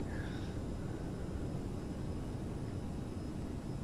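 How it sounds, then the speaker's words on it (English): Airliner thrust reversers deploying after landing in Flight Simulator, a steady, loud broadband engine roar with low rumble that holds level throughout, no voices. "Reversers are out"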